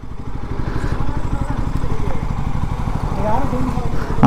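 Motorcycle engine idling close by, a steady low-pitched rapid putter held throughout, loud and continuous with a brief rise near the end.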